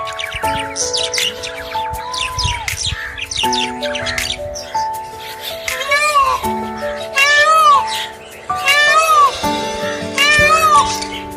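A peacock calls in a Dubai park in the evening, giving several loud, wailing, meow-like cries in quick succession near the end, over a steady tonal background hum.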